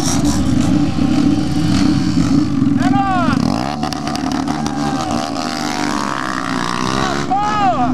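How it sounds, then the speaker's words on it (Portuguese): Many motorcycles rumble and rev at a crowded bike gathering, with engines passing and accelerating nearby as people talk over the din. "Moto pra caralho."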